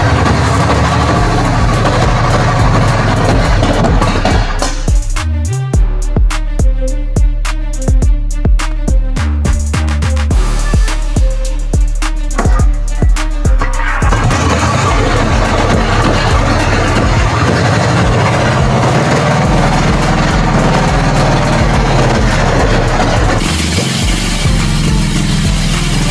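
A restored 1946 classic car engine cranks and turns over, then settles into a continuous loud, rough running rumble close by, with no talking.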